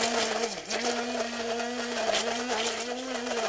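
A blender purees raisins with a handful of capers, a steady loud motor whine with a brief dip in pitch as the load shifts, running throughout with no talk.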